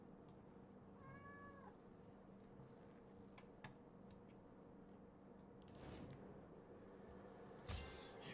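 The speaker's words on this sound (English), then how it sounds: "It's my cat, Sebastian." A pet cat gives a short meow nearby over a quiet room hum, with a few faint clicks and a soft rustle afterward.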